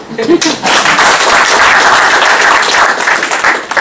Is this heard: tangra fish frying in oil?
no